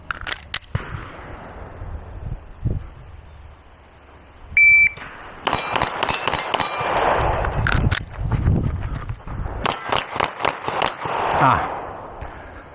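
Sharp pistol shots from a Beretta APX A1 Compact 9mm fired while moving, loud cracks in irregular bursts with gaps, mixed with electronic beeps and a brief voice.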